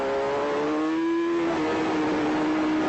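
Superstock 1000cc racing motorcycle at the Ulster GP road race, a steady engine whine holding a high pitch that dips slightly as it pulls into the pit lane, loud and continuous with no voices.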